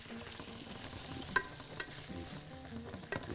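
Vegetables sizzle as they roast in a pan for Bahraini thereed, a soft, steady frying hiss with a few scraping stirs and clinks, faint and fairly close.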